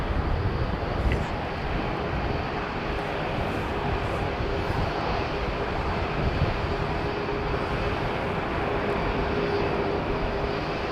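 An Airbus A350 airliner at London Heathrow Airport gives off a steady, broad engine roar, far off but even, lasting the whole stretch with no voices over it.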